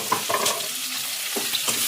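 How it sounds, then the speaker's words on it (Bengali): Chopped onions frying in oil with whole garam masala, a steady close sizzle with brief stirring scrapes and clinks, no voices. "এই পর্যায়ে আমি দিয়ে দেবো কুচানো পেঁয়াজগুলো।"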